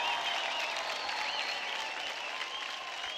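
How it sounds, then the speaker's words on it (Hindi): A studio audience on a televised dance competition applauds after a dance performance, with dense, steady clapping and a faint musical tone running beneath it. "जोरदार तालियां हो जाए"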